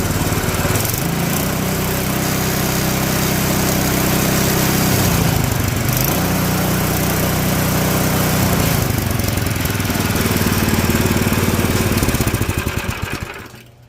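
A gasoline lawn tractor engine on a homemade go-kart runs loud and close at a steady drone, with brief dips in pitch before it cuts off at the end.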